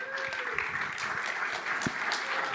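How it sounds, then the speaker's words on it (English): Audience applause at a closing panel of a Nostr conference, soft and steady and heard from some distance, with scattered sharper claps and a voice faintly present beneath. "Applause for that."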